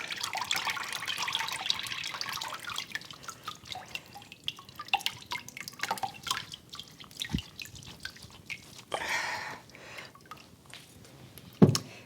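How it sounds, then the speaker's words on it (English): A kitchen tap runs and trickles while canned fruit is rinsed before dehydrating, making steady close splashing with scattered drips and clinks at moderate volume. No one talks. "we're going to do a quick rinse"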